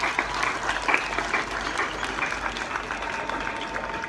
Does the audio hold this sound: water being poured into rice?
no